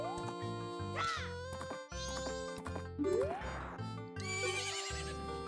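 A horse whinnies in The Legend of Zelda: Majora's Mask, a synthetic game neigh with rising and falling squeals set over looping in-game music and tones.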